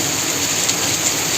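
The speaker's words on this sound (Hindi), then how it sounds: "तो ये देखो खूब बारिश हो रही है।" Heavy monsoon rain pours down steadily in Himachal, a dense, even hiss of drops drumming on surfaces with no let-up, close and fairly loud throughout.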